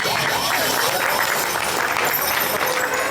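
An audience at a live comedy show claps for young women in a thick, continuous wash of applause, loud and even, with some crowd noise blended underneath.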